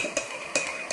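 A spoon stirring a lemon cold-remedy drink in a cup, with three light clinks against the sides over a faint background hum.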